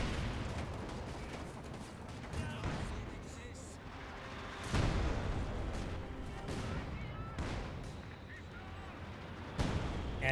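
Mortar fire and gunfire in Company of Heroes 2 come as scattered battlefield booms and crackling shots, with heavier blasts standing out near the middle and end, and a commentator talks over them.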